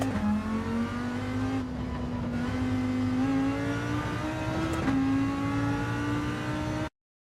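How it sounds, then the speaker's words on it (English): A race car in the video game Gran Turismo 7 accelerates through a corner, its engine note climbing steadily through the gears with brief dips at the shifts, loud and close throughout. "you're obviously accelerating through the corner."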